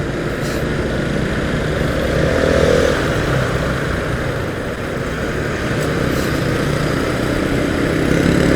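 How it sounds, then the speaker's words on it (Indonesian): Busy road traffic roars continuously, a dense wash of engine noise from passing vehicles with no pauses or clear gaps. "untuk suasana keramaian jalan, kondisi lalu lintas ini cukup banget rame"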